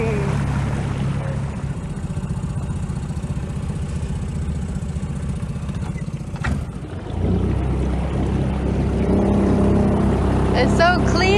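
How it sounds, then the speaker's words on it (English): A motorboat engine drones steadily at close range on a river, shifting pitch briefly midway before roaring on with a brighter, harsher tone. "We have a little bit of a boat ride now"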